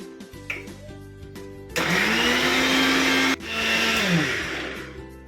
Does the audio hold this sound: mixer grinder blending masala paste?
yes